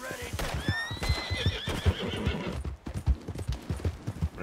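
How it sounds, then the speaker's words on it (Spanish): A horse in a game scene whinnies in a rising, wavering call while hooves clip-clop in a steady, close rhythm on the ground throughout. "Nada, el caballo no se mueve"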